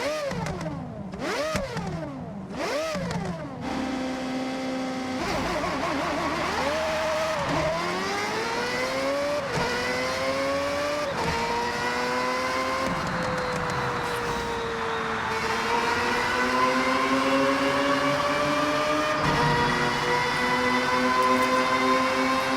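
A Mazda 787B with a 690-horsepower rotary engine in Forza Horizon screams through rapid rev blips, then climbs steadily through the gears in a loud, sustained, high-pitched wail that runs on without a break.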